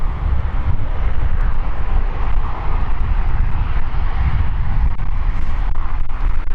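An Embraer E190 jet airliner arrives at London City Airport in the evening with a loud, continuous engine roar that stays dense and steady throughout, dominating with no voices.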